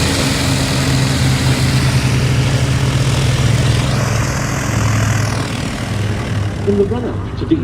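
A Griffon-engined Spitfire flies at an airshow, its propeller engine drone steady and fairly loud throughout, with a person talking over it in the foreground.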